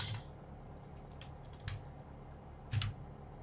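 Sparse, faint key presses on a computer keyboard, entering a code in an X-Plane 11 flight simulator setup, come as a few isolated clicks over a quiet background hiss.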